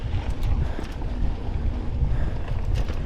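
Steady, buffeting wind roars across an exposed rocky shelf on a mountain bike trail, a loud, continuous rush with gusty fluctuations and no voices.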